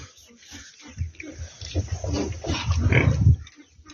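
Piglets grunt and snuffle close by in quick, rough bursts that build louder toward the end before fading.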